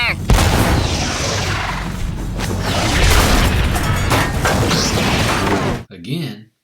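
A Star Wars Trade Federation tank fires its cannon in heavy, booming blasts amid a continuous loud roar of battle noise, ending with a short cutoff and a brief tail.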